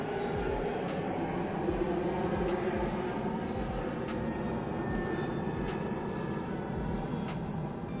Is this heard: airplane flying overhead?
yes